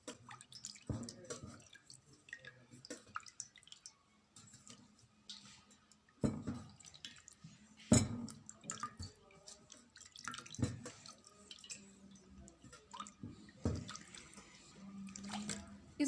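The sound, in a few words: washing scrub off with warm running water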